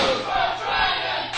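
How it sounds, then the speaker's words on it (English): Crowd at an independent wrestling show in a gym roaring and cheering loudly and continuously at close range, a dense wall of yelling voices with a slight dip midway. "The crowd right behind Super Dragon, as you can hear."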